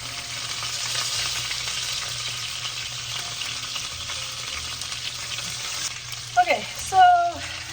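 Chicken pieces sizzle steadily in a pan for creamy garlic chicken, a constant hiss near the mic, ending with a few clinks and a brief scrape of utensils.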